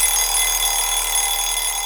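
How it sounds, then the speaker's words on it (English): An alarm clock rings continuously, a steady bright metallic trill holding at even loudness throughout with no pauses. "The alarm clock, it must be later than I thought."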